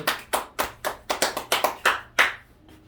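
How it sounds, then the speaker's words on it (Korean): A church congregation at a service in Suyu-dong, Seoul, gives a round of applause: about a dozen distinct, evenly spaced claps, close and fairly loud, slowing and trailing off near the end. "우리 큰 박수 주세요."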